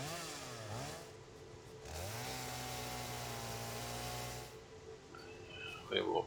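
A chainsaw in the video game Satisfactory cuts with a steady engine drone that rises and falls in pitch, fairly loud and continuous, easing off near the end before a brief louder burst.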